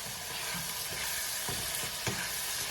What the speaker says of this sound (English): we're going to go ahead and saute that for a little bit